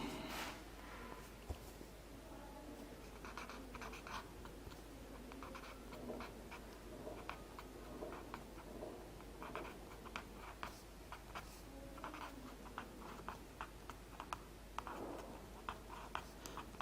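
Pen strokes scratch and tick steadily across a writing surface during an anatomy lecture, a faint continuous patter of short marks with no talking.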